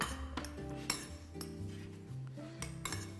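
Seasoned sweet potato with salt, pepper and cinnamon being tossed in a bowl, giving a run of light clinks and scrapes of utensil against dish, close and fairly quiet.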